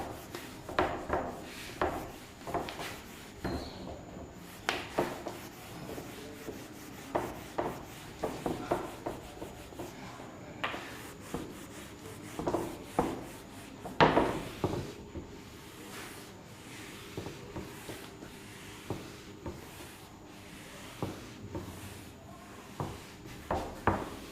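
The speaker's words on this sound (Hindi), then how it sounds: "तो चलिए इधर हम रब कर रहे हैं।" Repeated rubbing strokes of an eraser wiping writing off a board during a physics lesson, irregular scrubbing bursts fairly close and clear, with no talk over them.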